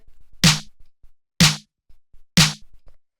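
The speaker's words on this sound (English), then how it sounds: "The next thing we have after that is this clap snare," Three crisp disco clap snare hits, a snare layered with a clap, strike alone at a steady pace about a second apart, each with a short bright tail and near silence between.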